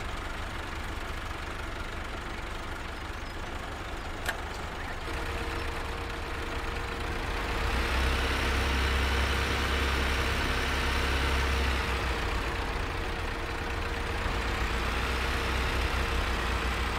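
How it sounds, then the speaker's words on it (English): A truck engine in Farming Simulator 17 turns over and settles into a steady low idle, the rumble growing fuller after a few seconds and droning on continuously without speech. "Start your engine."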